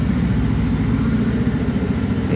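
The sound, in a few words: motorcycle engine idling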